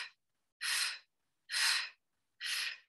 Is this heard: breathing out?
yes